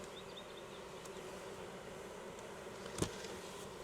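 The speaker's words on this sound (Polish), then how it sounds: "Pszczoły huczą, bo dostały dymu." Honeybees in an open hive, stirred up by smoke during a colony inspection, give a steady, dense buzzing hum that continues throughout, with a brief sharp knock near the end.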